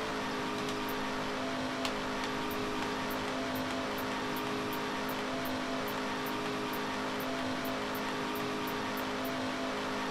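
Car engine droning steadily while driving in a Roblox game, with a constant tonal hum and a faint regular ticking overhead, no voices.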